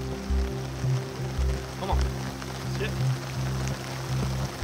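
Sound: rain falling on a disc golf course

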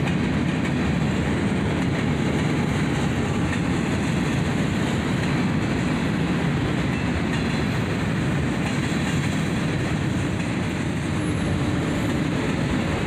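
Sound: CSX SD40-2 diesel locomotives hauling a train

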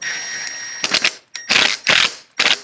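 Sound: screwing plastic part of Mini Cooper charcoal canister by hand

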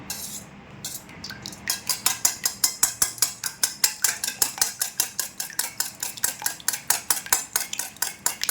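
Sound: beating egg whites for cake with a whisk

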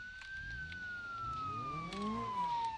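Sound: police car siren in BeamNG video game

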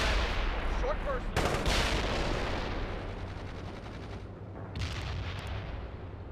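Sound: gunfire in video game World in Conflict

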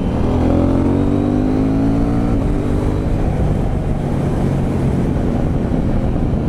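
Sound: KTM 790 Duke motorcycle accelerating

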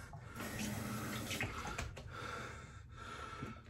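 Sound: running water from a tap

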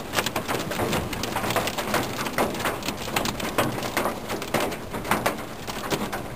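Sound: hailstorm heard from inside a van

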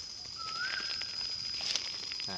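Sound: birds singing in the evening in a palm plantation

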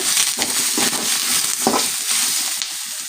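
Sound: sautéing tomato, onion and curry leaves in a pan

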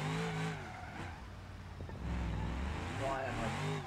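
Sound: drift car engine in the video game BeamNG

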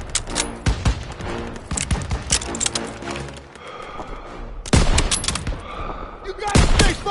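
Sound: gunfire in video game Call of Duty WWII

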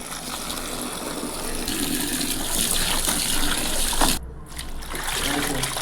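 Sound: washed cloth being dipped in water

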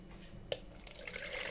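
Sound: water being poured

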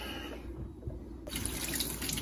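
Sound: cold tap water running for washing eggs

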